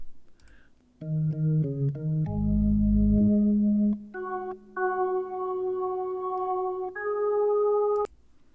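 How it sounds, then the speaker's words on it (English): A bright, flute-toned organ plays short notes and then held higher notes, starting after a brief quiet moment and stopping abruptly. "And then the flute organ."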